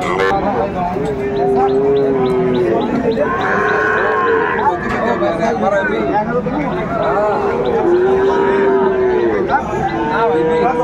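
Sahiwal bull calves moo repeatedly, several drawn-out calls over a noisy crowd of people talking nearby at a busy cattle market.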